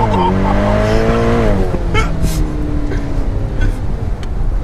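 A Ferrari roars through a launch-control start at full throttle in a video game, the engine note climbing then dropping as it takes off. A voice talks over the steady, loud engine sound.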